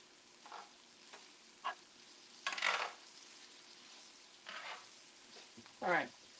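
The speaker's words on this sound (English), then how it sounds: "Let me give this one last quick stir." Persian makaroni stirred in a sizzling pan: a few short scraping bursts over a quiet, steady sizzle, with the loudest scrape near the end.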